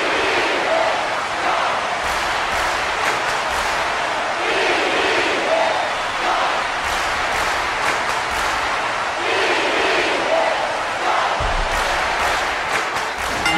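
A wrestling crowd in the U.S. Cellular Center cheers and roars in repeated surges, loud and continuous, with shouts and scattered claps rising and falling throughout.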